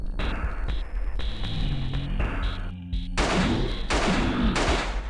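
Repeated revolver gunshots in the survival horror game Alone in the Dark: The New Nightmare, loud blasts over a dense, rumbling game soundscape with a roaring surge near the end.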